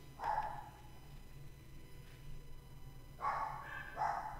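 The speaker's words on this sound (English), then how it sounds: "We got barking dogs." Dogs in the video game Shantae and the Seven Sirens bark in quick short bursts, one near the start and a pair near the end, faint against a quiet background hum.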